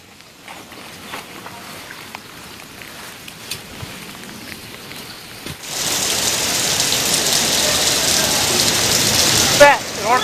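A quieter stretch of faint shuffling gives way to a sudden steady roar of heavy downpour in Karnataka, loud and continuous through the second half.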